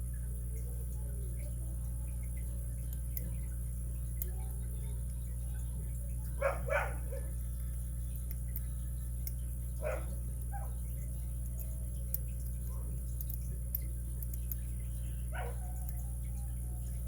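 A dog barks a few times at moderate distance in a quiet workshop during a lock overhaul, short separated woofs over a steady electrical hum.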